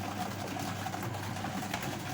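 A steady mechanical whirring hum of a washing machine's spin dryer running fast on a newly replaced motor, continuous and even with no voices.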